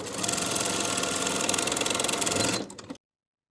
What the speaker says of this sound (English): Edge stitch along that bottom fold on the inside from one side to the other.